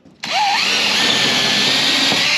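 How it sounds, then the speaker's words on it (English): A power drill boring a pilot hole into a wooden trailer floor board, starting abruptly and whining steadily and loudly at close range. "drilling a pilot hole"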